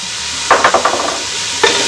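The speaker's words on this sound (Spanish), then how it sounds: "agregamos la cebollita picada, vamos a dejar sofreír un momentico" Chopped onion and garlic sauté in a pot with a steady loud sizzle, broken by a few quick scraping stirs of a utensil partway through and once near the end.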